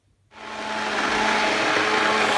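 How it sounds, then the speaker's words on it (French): An electric blender purées potato and leek soup (potage parmentier), starting abruptly and then holding a loud, steady whirring drone, with no talk over it. "Je vais utiliser celui-là pour mixer notre potage parmentier."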